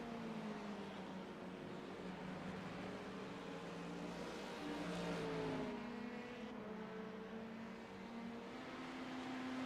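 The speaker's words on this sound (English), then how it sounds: "Matthew Rice and Mark Feeney leaving the pits now" Race cars leave the pits at Watkins Glen in the iRacing sim, their engines droning steadily at moderate level with a pitch that shifts and drops midway, no talk over it.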